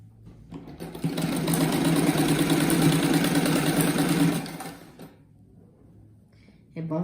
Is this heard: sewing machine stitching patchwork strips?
yes